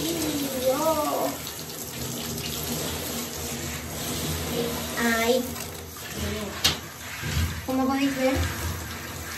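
Running water splashes steadily while an English Setter is showered, a continuous close hiss under intermittent talking and a voice, with a few brief knocks.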